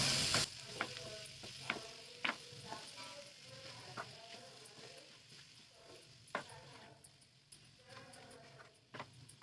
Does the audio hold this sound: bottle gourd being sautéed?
yes